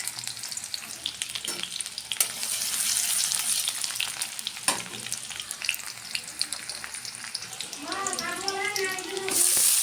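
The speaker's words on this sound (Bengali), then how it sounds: "এখন ভাজি বসাই দিব কড়া তেল দিয়ে" Peeled, cut potatoes frying in hot oil in a pan for a Bangladeshi potato bhaji, steady crackling sizzle with stirring clatters, and a voice briefly heard near the end.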